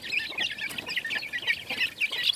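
Adult chickens inside a coop give a steady run of close, overlapping clucks and murmurs with no pauses, ending a bit louder.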